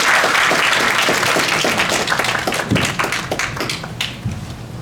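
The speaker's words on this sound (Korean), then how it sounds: "찬 박수 부탁드리겠습니다" An audience at an aerospace future strategy forum applauds to welcome a professor, with brisk, dense clapping that thins and tapers off toward the end.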